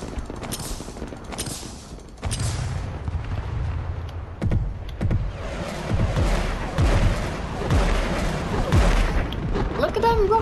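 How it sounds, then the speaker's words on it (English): Rockets hit in a video game air strike, a run of heavy booms and crackling blasts that pile up over several seconds, loud and dense, with excited talk over the barrage. "Look at them rockets just come boom,"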